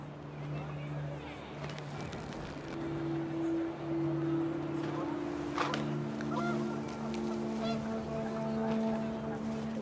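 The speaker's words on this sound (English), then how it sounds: "panicked geese appeared and quickly went" Panicked geese honk in the game What Remains of Edith Finch, several drawn-out nasal calls rising and overlapping amid windy ambience, while a voice narrates over them.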